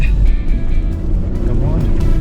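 A Tata Altroz in sport mode strains up a tricky uphill of loose, soft sand in Ladakh. Its engine makes a low, loud rumble close by, and a voice talks over it.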